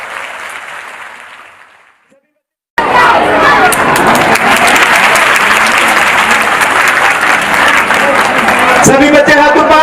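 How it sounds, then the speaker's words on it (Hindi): Schoolchildren at an annual school function at an inter college in Muradnagar clap loudly and steadily in a dense, sustained burst after a brief quiet gap, with a faint fading crowd sound before it. "तालियां बजाएं सभी बच्चे जोर से।"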